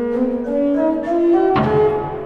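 An organ passage played fully legato at a masterclass, held notes gliding into one another in a blunt, joined line with a fuller chord entering near the end, heard alone without talk.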